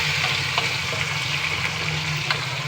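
Curry leaves and dried red chillies frying in hot oil make a continuous close sizzling crackle with small pops, steady and fairly loud throughout.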